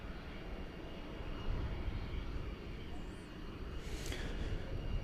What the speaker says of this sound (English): So we do see the Turkish Dreamliner